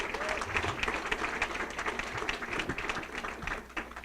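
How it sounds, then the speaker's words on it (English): An awards-ceremony audience at a chamber of commerce event claps steadily. The dense, even applause fills the room throughout and carries no clear speech. "give him a round of applause for working for free"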